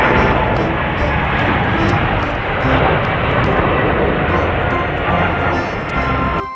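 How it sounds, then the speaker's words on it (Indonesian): A broad, steady roar of an airplane engine fills the whole clip at constant loudness, with no clear breaks or separate events. "Pesawat terbang."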